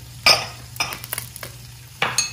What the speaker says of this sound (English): we'll just saute the rest of the ingredients.